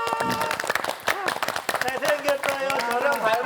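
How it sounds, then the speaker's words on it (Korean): Children at a fire-safety morning class clap for an arriving teacher, with brisk uneven clapping mixed with adult talk and lively voices over it. "오시면 큰 박수 부탁드릴게요."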